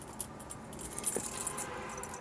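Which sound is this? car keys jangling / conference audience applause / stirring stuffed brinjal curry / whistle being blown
car keys jangling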